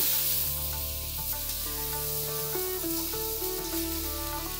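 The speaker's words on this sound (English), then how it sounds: "now saute this for another minute or two" Ginger and garlic paste sautéing in oil for a mutton korma, a constant soft sizzling hiss heard under a background of tonal music, with no one talking.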